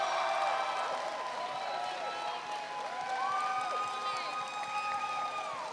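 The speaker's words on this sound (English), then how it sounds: "Give this dress a round of applause." An audience at a student television awards ceremony claps and cheers in a steady, continuous round of applause, heard from within the hall at moderate volume.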